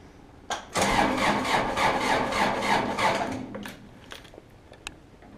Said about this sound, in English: As soon as I start turning the engine, Laura, yep.